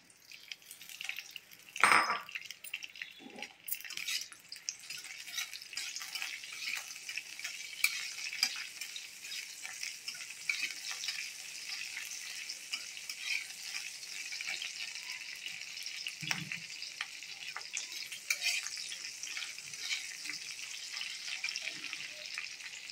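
Green chillies frying in hot oil, a close, steady crackling sizzle that runs throughout, with a sharp pop early on and a few spoon or pan knocks.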